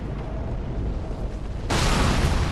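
Giant crossbow bolt smashing through a stone wall in Dark Souls 3, a sudden loud crashing boom that cuts in midway over steady rumbling game ambience and stays loud to the end.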